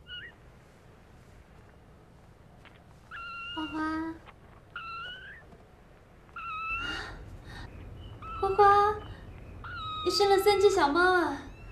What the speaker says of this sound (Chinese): 小猫啊， 花花，你好伟大啊，你当了妈妈了耶。